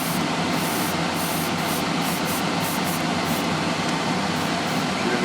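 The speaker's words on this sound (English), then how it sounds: "it's a lot easier to spray rather than trying to do it on the aircraft" An airbrush or spray can sprays paint steadily onto a 1/48 scale Airfix Messerschmitt Bf 109E propeller held on a cocktail stick, making a continuous close hiss with slight pulsing and no pauses.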